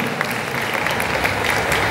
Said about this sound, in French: Et puis on les applaudit tous bien fort et on applaudit notre cosplayeuse